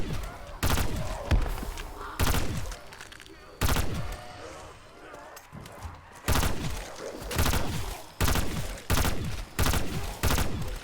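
Rapid bursts of gunfire from hip-firing a gun in a video game, loud and close, in repeated volleys with short gaps between them, with a few thuds mixed in.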